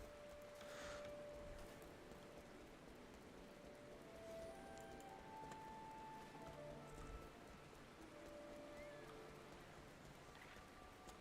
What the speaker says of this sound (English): Huh, it's still raining,